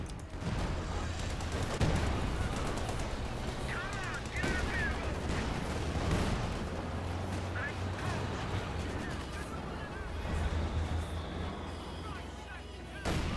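Rapid gunfire and bursts of machine-gun fire from Company of Heroes 2, aimed at anti-tank guns in the game, form a dense, continuous barrage with booms and blasts under occasional talk.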